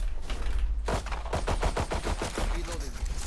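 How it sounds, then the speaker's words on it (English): Rapid bursts of gunfire in the video game Valorant, a fast run of sharp shots following a quieter stretch, with in-game sounds behind them and no talk. "This guy's just shooting in the smoke"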